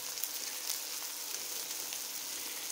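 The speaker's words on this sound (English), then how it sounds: "I'm loving the sound of those sizzling patties there" Beef and bacon patties sizzle steadily in a frying pan, a dense, even crackling hiss with tiny pops, close and continuous, with no talking.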